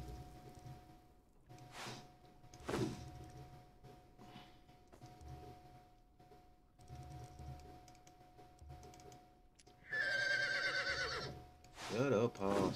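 A horse in the video game Conan Exiles whinnies loudly near the end, following quieter game sounds and clicks, with a second shrill neigh right after.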